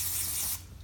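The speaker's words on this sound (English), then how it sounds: "Next, I'm going to spray this on my hand" Spray bottle misting onto a hand, a single close, steady hiss of fine spray lasting about half a second before cutting off into quiet room tone.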